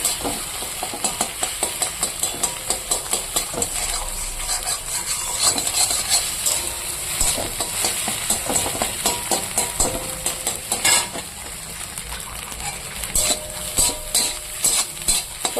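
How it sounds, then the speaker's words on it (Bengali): Egg sizzles steadily in a hot pan while a utensil scrapes and taps the metal in a regular, repeated rhythm as it is scrambled. The frying hiss stays loud and close throughout. "তো এখানে তো ডিমটা দিয়ে দিয়েছি তো ডিমটা একটু ভুজিয়া করে নেবো"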